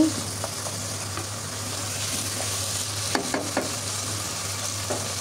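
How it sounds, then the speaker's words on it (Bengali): Chicken stir-fried with spices in a pan: a continuous close sizzle with occasional spatula scrapes and taps against the pan, no talk. "খুব ভালোভাবে মশলা সহ কষিয়ে নিচ্ছি।"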